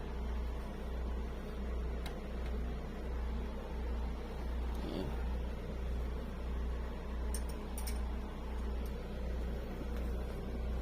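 A small 0.8-litre turbocharged car engine idles with a steady, even hum that stays constant and close throughout, with faint clicks now and then over the drone.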